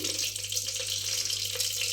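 Mustard seeds splutter in hot oil in a cooking pan, a steady bright sizzling hiss with a few sharp pops breaking through, close and continuous with no talking.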